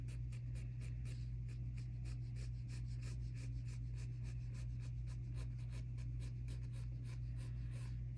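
A pencil on paper sketches a mandala in quick, evenly spaced short dashes, a soft rhythmic scratching over a steady low hum with no speech.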